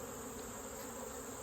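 Honey bees buzzing around a hive in late summer, a steady soft drone of many insects close by, unbroken for a brief moment, with no voices.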